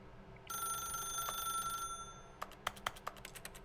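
A telephone rings in the Stanley Parable video game, a steady electronic bell tone sounding alone, then breaking into a string of sharp rhythmic pulses toward the end.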